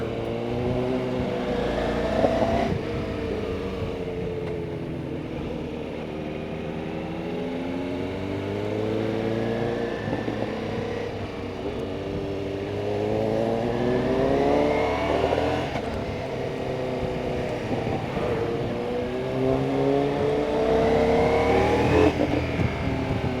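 A 2023 Ducati Multistrada V4S V4 motorcycle engine revs repeatedly past 5,000-6,000 rpm, its pitch climbing and falling in several rising sweeps, loud and close without any talking.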